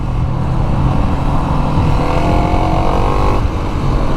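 A Kawasaki KLX 300 SM supermoto's engine drones loud and close as it accelerates, its pitch climbing steadily before easing briefly and continuing.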